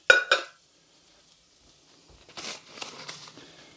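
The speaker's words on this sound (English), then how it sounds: "So give them a quick stirring. Get them coated in all that loveliness." A spoon clinks against a camping stove pan twice, then pre-cooked potatoes coated in spices scrape and shuffle as they are stirred, soft and close with faint sizzling.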